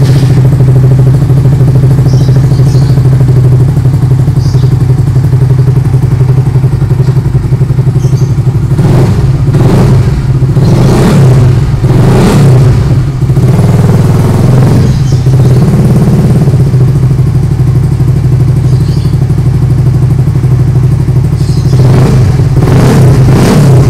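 Suzuki GSX motorcycle engine starting and then idling steadily at close range, a loud continuous low rumble with several brief revs and clattering surges partway through, no talking.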